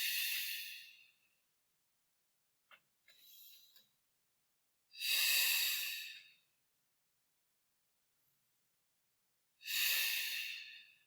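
Slow, deep breaths during a restorative yoga pose: three long airy exhalations come several seconds apart, close to the ear and fairly soft, with silence in between.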